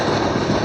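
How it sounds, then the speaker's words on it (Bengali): The 12321 Mumbai Mail runs toward Barakar station in West Bengal with a loud, close, continuous rumbling roar of wheels and carriages, brief and steady. "বন্ধুরা ফাইনালি ট্রেনটি চলে এসছে ওয়েস্ট বেঙ্গলের লাস্ট স্টেশন বরাকরে"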